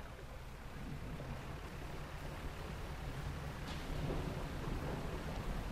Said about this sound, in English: Stormy day.